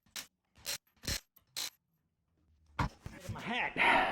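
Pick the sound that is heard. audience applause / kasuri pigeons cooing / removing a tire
removing a tire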